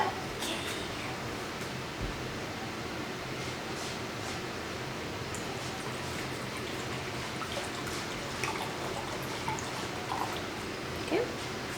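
Apple cider vinegar is poured into water for making pickles, giving a soft trickling and dribbling splash with scattered drips in a kitchen, faint and steady, while people talk intermittently.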